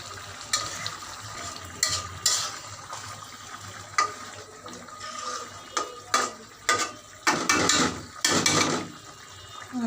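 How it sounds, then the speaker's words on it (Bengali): Lentils are stirred in a cooking pot for a fish-head dal, with repeated scraping strokes of a spoon that grow busier toward the end over a faint sizzle. "ডালটা দিয়ে দিচ্ছি, নাড়াচাড়া দিয়ে দেবো।"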